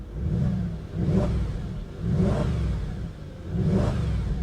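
A 2010 Audi S5 engine revved three times in a row, each rev rising in a throaty surge and falling back to idle, close by.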